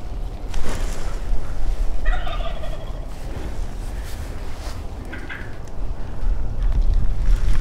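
A wild turkey gobbles once on Texas public land during a hunt, a distant, rattling burst in the middle of steady wind noise outdoors.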